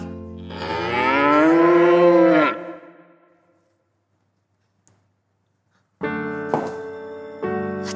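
A single long, loud moo from Matsusaka beef cattle in Mie, followed by near silence and then a few more bovine lowing sounds close by, with no talk.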